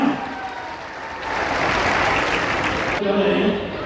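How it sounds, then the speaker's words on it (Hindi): A crowd claps at an outdoor political rally in Madhosinghana, the applause swelling loudly for a couple of seconds before dropping off, with a voice over a loudspeaker around it. "जोरदार तालियां"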